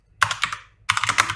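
Fingers tap out two quick bursts of keystrokes on a computer keyboard, crisp close clicks separated by a brief pause.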